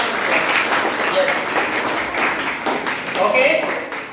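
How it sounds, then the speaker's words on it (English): Classroom students clapping in a brief round of applause for a correct quiz answer, a busy, uneven patter of hands with voices mixed in. "Clap for him. Huge clap for him. Big round of applause."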